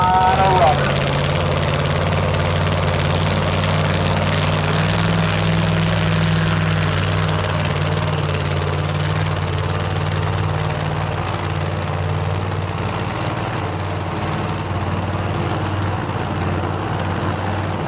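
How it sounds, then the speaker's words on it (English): A Pro Mod drag racing car does a tire burnout at a Street Car Super Nationals event in Las Vegas, a loud, continuous, heavy engine roar with a low droning tone that holds steady throughout, heard from a distance in a broadcast mix. "So there's that burnout from Not Eleanor."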